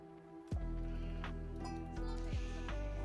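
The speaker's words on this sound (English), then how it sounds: "I am getting a lot of sheep on this side of the map." Sheep bleating in a strategy video game, a few tonal bleats over a continuous game soundtrack with sharp effect sweeps.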